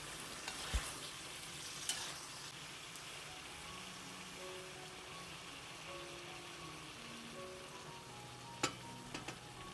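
Lamb lung, meat and onions for Kazakh kuyrdak fry steadily in a pan, a continuous close sizzle with occasional sharp clinks of a stirring utensil and soft bubbling crackle throughout.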